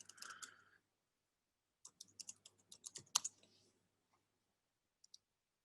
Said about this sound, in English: I'm so used to typing on my laptop that the keyboard feels awkward.